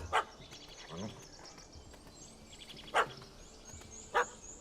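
Dog barking in The Witcher 3: Heart of Stone, three sharp barks spread out at the start, about three seconds in and near the end, fairly close, over quiet game ambience with no talk.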